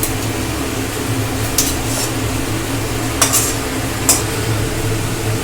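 Chopped vegetables tipped off the heat into boiled leafy greens for a Bengali fish-head chhyachra, then stirred: a steady low hiss runs under a few sharp utensil scrapes and clinks against the pan.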